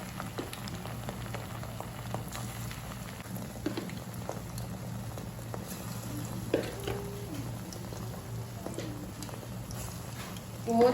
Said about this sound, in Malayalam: ബാലൻസ് ഉള്ള ചിക്കൻ പീസസിനെയും ഇതുപോലെ ഒന്ന് ഫ്രൈ ചെയ്തെടുക്കാം.